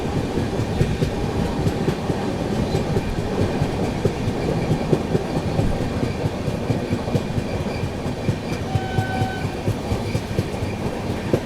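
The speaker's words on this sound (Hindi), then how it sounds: "सामने की ओर से अंडमान एक्सप्रेस आ रही है" Continuous loud rail rumble and clattering wheels fill the scene as the Andaman Express from Shri Mata Vaishno Devi Katra approaches near the Sevagram curve, heard from aboard the Grand Trunk Express, with no voices.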